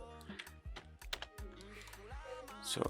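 Quick bursts of keystrokes clatter close by on a computer keyboard, uneven in rhythm, with soft tonal sounds and a voice faint in the background.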